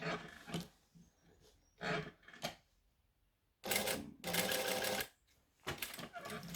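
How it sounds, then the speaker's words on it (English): A sewing machine stitches a small zigzag in short rapid bursts, close and loud, separated by brief pauses and a longer stretch of quiet before several more bursts of stitching. "And then I'm going to do my fun little zigzag."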